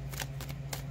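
Tarot cards shuffled in quick riffling bursts, three short close-up swishes over a low steady hum.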